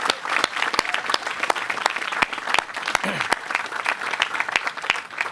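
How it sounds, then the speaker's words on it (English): Crowd applause at an outdoor press event announcing the reopening of Rockaway Beach, a steady patter of claps with sharp individual claps standing out, and some voices mixed in throughout. "Let's give them a round of applause."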